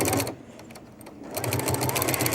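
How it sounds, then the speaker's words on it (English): A sewing machine with a walking foot stitches through several layers of fabric for a diaper bag, its needle hammering in a fast steady rhythm close by, with a short slowdown before picking up speed again. "Put it underneath your walking foot, and now we're sewing several layers of fabrics together."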